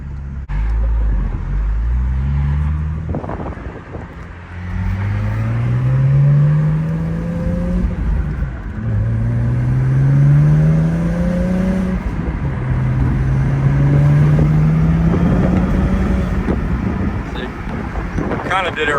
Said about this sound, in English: you just hear the turbo spooling and the RPMs go up